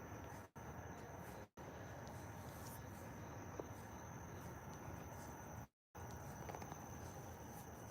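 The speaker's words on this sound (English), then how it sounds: "the bugs are out in full force tonight" Dense, steady insect chirping fills an evening city street on Capitol Hill in the Mid-Atlantic, a continuous shrill drone broken by a few brief dropouts, with no talking.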